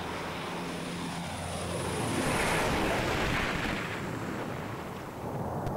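A McDonnell Douglas C-17 Globemaster III military transport jet flying, a loud continuous broadband engine roar that swells toward the middle and stays steady, with no voices.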